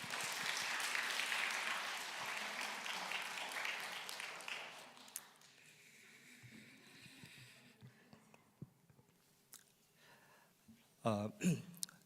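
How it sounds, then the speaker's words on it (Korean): A Korean church congregation applauds for the children during a Sunday service, a dense burst of clapping for about five seconds that fades into quiet room sounds and a few scattered noises. "오늘 아이들 위해서 잠깐 같이 박수 치고."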